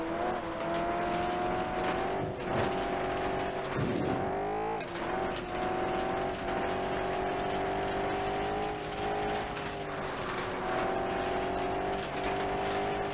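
Race car engine in the video game FlatOut 2, a loud continuous roar with shifting revs, a sharp gear change and brief tire scrub midway, droning close and steady throughout.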